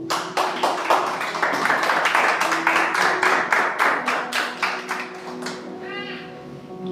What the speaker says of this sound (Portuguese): aplaudindo ao Senhor.